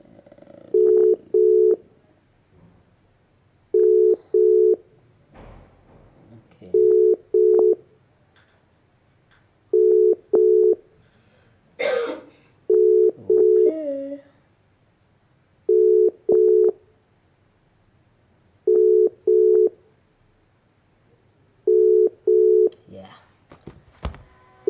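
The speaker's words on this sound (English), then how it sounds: "The phone is ringing now." An outgoing phone call rings back in a repeated double-beep pattern, pairs of tones roughly every three seconds, loud and clear, with a few brief noises between rings.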